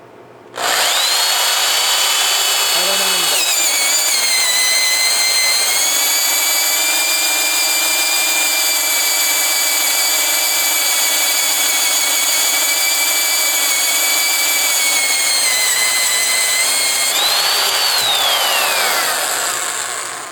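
A Spyder 1.5-inch hole saw cuts through a 1-inch piece of hardwood, giving a loud, steady whining drill drone that runs for about fifteen seconds and then winds down, with no voices.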